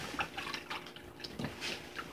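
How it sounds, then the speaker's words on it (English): Running water from rinsing a hand, splashing and dripping in short irregular bursts at close range, fairly faint, with no voices. "I gotta rinse my hand off."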